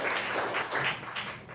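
Audience applause at a Denton firefighters' city council candidate forum: a dense, steady crowd clapping that holds at an even level throughout, with no voices breaking through.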